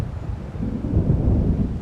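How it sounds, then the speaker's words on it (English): Thunder from an approaching storm in the game Alan Wake, a low, continuous rumble that swells toward the end, close and fairly loud with wind-like noise and no voices. "It seems there's a storm coming."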